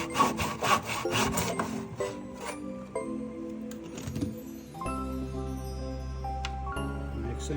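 A hand saw cuts wooden scraps at a 45-degree angle, producing rapid back-and-forth rasping strokes up close that give way to a lower steady hum partway through.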